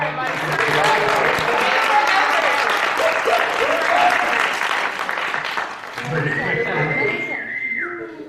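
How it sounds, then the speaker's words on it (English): Sustained audience applause fills a university engineering week event hall, loud and steady for several seconds, with scattered voices and a whistle-like tone rising near the end. "Give me a round of applause for"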